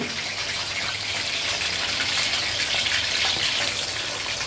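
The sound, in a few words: chopped cauliflower frying in ghee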